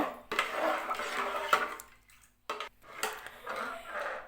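Close, quiet scraping and wet squelching sound as a rice-free batter is mixed after asafoetida powder is added. Irregular strokes come in short bursts separated by brief pauses.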